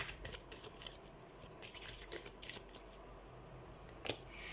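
A deck of tarot cards being shuffled close up, a run of soft riffling and sliding card sounds in quick, uneven bursts with no talking.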